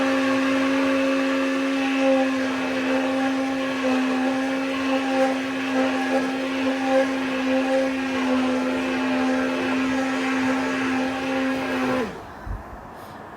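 A hand blender whirs loudly and steadily while mixing kadhi batter, holding an even pitched whine for about twelve seconds before abruptly switching off.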